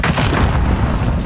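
A cruise missile strike explodes in a Call of Duty video game, a loud, dense, sustained boom that fills the whole short span at close range.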